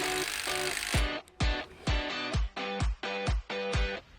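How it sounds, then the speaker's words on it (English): A power drill drives 75mm 10-gauge screws into timber deck joists in short repeated bursts, each ending in a low thud as it pulls tight, about seven pulses in a steady rhythm. "We're pre-drilling then screwing off using 75mm 10 gauge Gel screws"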